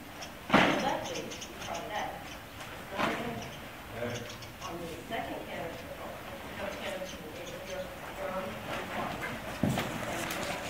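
Horse hooves clip-clop in an uneven rhythm at moderate distance, with a few sharper knocks, while people talk intermittently over them.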